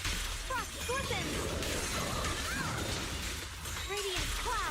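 Frost Scorpion skill effect in a video game: a continuous, loud wash of shattering, icy crashes, with dense impacts and sweeping chirps running throughout and voices in the game mix underneath.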